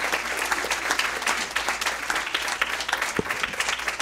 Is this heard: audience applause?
yes